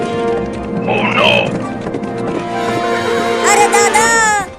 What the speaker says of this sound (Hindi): ये घोड़ा ट्रेन की लाइन पर ही दौड़ने लगा।